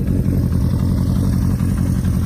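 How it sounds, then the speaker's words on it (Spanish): A 1977 Honda CB400 Four café racer idles nearby, its exhaust giving a steady, loud, throbbing rumble with no talking. "el sonido del escape sin duda muy muy limpio"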